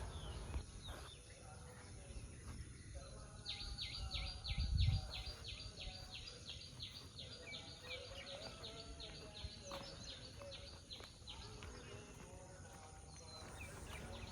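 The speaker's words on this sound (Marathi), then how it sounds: "पक्ष्यांचा मंजूळ किलबिलाट" High, rapid bird chirps repeat in a quick series over a low outdoor hum in the morning at Jeevanvidya Dnyanpeeth, Karjat, with other faint calls scattered around at a distance.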